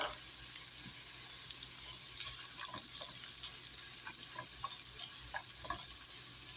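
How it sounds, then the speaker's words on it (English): Chopped onion and mixed vegetables frying in olive oil in a pan give a steady, close sizzle with occasional stirring clicks throughout, and no voices. "now I'm going to add my onion,"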